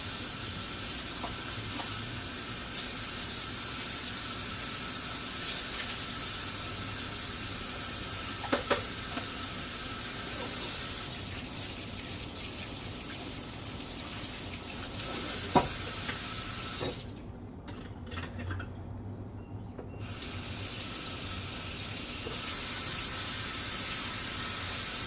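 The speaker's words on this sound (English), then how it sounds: "I'm gonna go ahead on and run some water in my sink," Water runs from a tap into a home kitchen sink in a steady hissing stream, close and continuous, briefly cut off and then resumed, with a few faint clinks; no talking.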